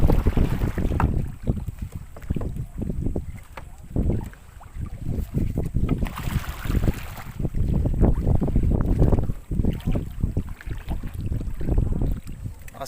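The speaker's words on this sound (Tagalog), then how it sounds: "Lakas ng hangin guys." Strong wind buffets the microphone on a boat during night fishing, a loud, gusting rumble that surges and eases throughout.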